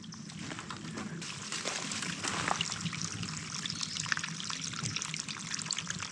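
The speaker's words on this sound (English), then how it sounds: "Straight orange freaking waterfall." Orange-tinted water trickles and seeps out of a mountainside, a steady close splashing dribble with a faint outdoor wash behind it.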